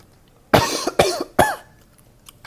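Three sharp, close coughs in quick succession, followed by quiet.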